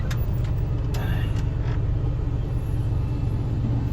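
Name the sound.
tractor engine running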